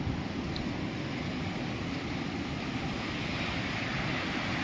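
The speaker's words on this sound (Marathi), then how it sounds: "गोदावरीला पाणी जात आहे।" Floodwater rushing toward the Godavari river after heavy rain, a broad continuous roar of flowing water mixed with wind buffeting the microphone, steady and fairly loud throughout.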